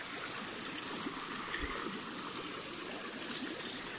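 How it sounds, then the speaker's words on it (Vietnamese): A clear mountain stream flows steadily, with a constant broadband rushing and trickling close by and no voices. "Con suối nó thoáng mát."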